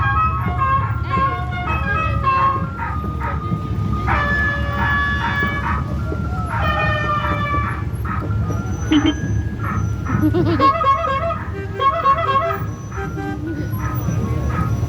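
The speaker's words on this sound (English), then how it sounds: "It's ice cream music. Ice cream truck music." An ice cream truck plays its jingling chime melody during a 2022 Memorial Day parade, loud and steady over crowd noise, traffic and children's voices.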